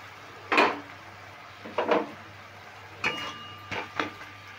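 A metal lid is knocked and lifted off a pot of potatoes cooking for a vegetable-stuffed kachori filling, a few separate close clanks and taps spaced out over a quiet kitchen background.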